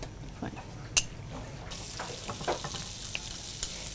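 Butter sizzling in a pan, a soft crackling hiss with a few sharp pops, steady under faint kitchen noise.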